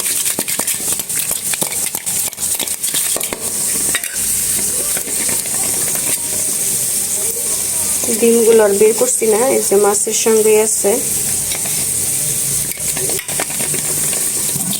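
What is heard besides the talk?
hilsa fish frying with turmeric, salt and chili powder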